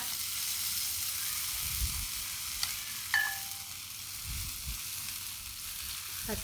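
Khanom khrok coconut batter sizzles in a cast dimpled pan over a charcoal stove, a soft, steady frying hiss with a few light clinks and low taps close by.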